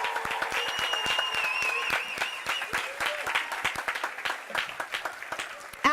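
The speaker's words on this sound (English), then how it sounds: "Let's give them a round of applause." An audience applauds at the Texas Rally for Life at the State Capitol, a dense wash of clapping with whistles and cheering voices woven through, holding strong before thinning toward the end.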